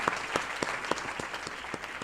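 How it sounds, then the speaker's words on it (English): An audience at a livestreamed event claps steadily for about two seconds, a moderately loud, even patter of many hands with no voices over it. "let's give them a big round of applause"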